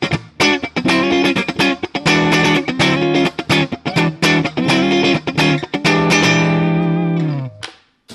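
Clean electric guitar played through a Digitech RP1000 effects and amp switching system, a loud, steady run of picked notes and chords that rings on and then fades out at the end, close and alone.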